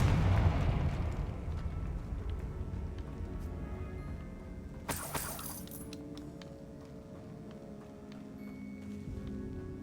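A Confringo blasting spell in Hogwarts Legacy bursts with a heavy boom at the start, followed by crackling debris and a sharp glassy shatter midway, then lingering rumbling ambience.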